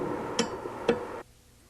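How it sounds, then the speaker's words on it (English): Bosch VE diesel injection pump fuel shutoff solenoid switching, two sharp metallic clicks about half a second apart over a low hum that cuts off abruptly, close and fairly quiet. "be sure the solenoid operates to admit fuel"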